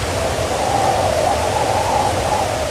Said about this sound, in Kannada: ರಭಸವಾಗಿ ಬೀಳ್ತಾ ಇರುವಂತ ನೀರು